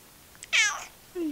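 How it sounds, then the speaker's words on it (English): Domestic cat in a house basement gives one clear, close meow, followed by a softer trailing cry, in a quiet room. "Meow. Meow. Meow."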